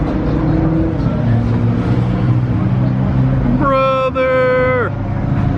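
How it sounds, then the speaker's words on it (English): A blue Liberty Walk widebody Nissan GTR pulls in with a steady engine rumble, then a loud rising-and-falling exhaust burble with strong harmonic tones near the end, while someone shouts briefly over it. "The blue Liberty Walk GTR is pulling in over there."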